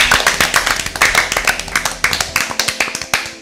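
Applause for a winning team at an Easter Bible quiz: a few people clap nearby in quick, uneven, sharp slaps that carry steadily throughout and stop abruptly at the end.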